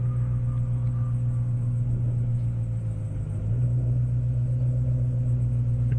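At a half-mile airstrip drag race, a Mustang and a Camaro rumble low and steady at the starting line, a deep continuous engine drone with a slight dip and swell midway, no talking.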